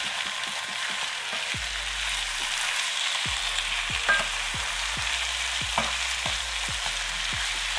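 Beef and vegetables sizzling in a pan while being stirred, a steady close frying hiss with a series of low knocks and scrapes from the spoon at an uneven rhythm.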